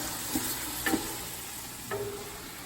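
Onions sizzle softly in a pan for vegetarian chili as garlic is added, with a few light utensil taps over the steady frying hiss.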